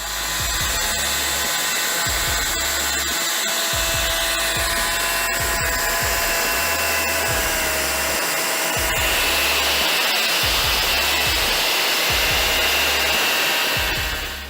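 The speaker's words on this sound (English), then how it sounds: "Capable of cutting logs up to 20 inches in diameter, this machine is designed for easy transport and setup." A portable automatic wood sawmill cutting logs up to 20 inches in diameter gives a loud, steady mechanical drone with a rhythmic low throbbing underneath, continuous throughout and with no voices.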